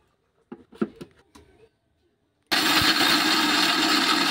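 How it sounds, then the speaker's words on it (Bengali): An electric grinder pulverises nuts into powder for a homemade Horlicks-style drink mix. A few light knocks and clatters come first, then the motor starts abruptly and roars loudly and steadily to the end. "এরপর ঢাকা চাপাটা লাগিয়ে আবারও গুঁড়ো করে নেব"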